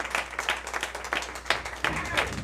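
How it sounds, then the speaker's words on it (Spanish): An audience at a tribute concert claps to welcome a singer, a short burst of moderate applause heard under someone speaking over it. "y ustedes recibanla con un gran aplauso"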